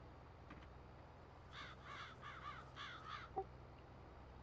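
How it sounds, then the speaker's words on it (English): Several crows caw in a short burst of repeated calls in Farming Simulator 22, set against a steady low game ambience. The calls are moderately near and come alone, with no talk over them. "I think it's cool that like the crows are there like flying away when you pass them."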